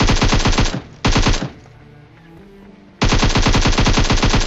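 Rapid automatic gunfire in the mobile shooter BGMI, loud close bursts with a short pause between them and no talk.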